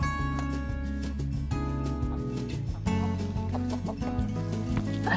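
A chicken in a home garden run clucks over and over in a strong, rhythmic, throaty pattern. The clucking is close and loud, and there is no speech with it.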